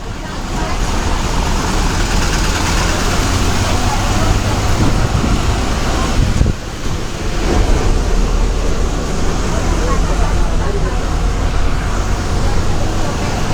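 An APSRTC bus runs from Tenali to Kothurulanka, its engine and road noise a steady loud rumble throughout, with a short dip partway through.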